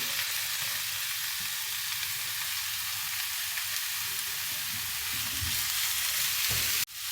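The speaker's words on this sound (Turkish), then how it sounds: "jülyen doğramış olduğumuz etlerimizi ısıtmış olduğumuz döküm tavanın içerisine alalım." Julienned meat sizzles and fries loudly in a preheated cast iron pan, a continuous bright crackle with occasional stirring, ending abruptly.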